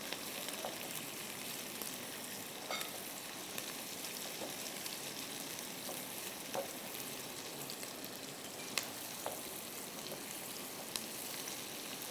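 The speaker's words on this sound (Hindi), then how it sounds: "प्याज जो हम तल रहे हैं" Steady crackling sizzle of onions frying in hot oil, with scattered small pops over a continuous hiss, close and moderately quiet.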